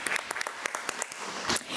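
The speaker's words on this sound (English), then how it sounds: "So let's give another round of applause for Ms." Audience clapping for a teacher being honored at a school board meeting: a short burst of scattered, crisp hand claps from a modest crowd in an indoor hall.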